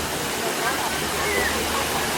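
A waterfall at Erawan National Park gives a steady, close, full rushing roar that stays even throughout the short moment.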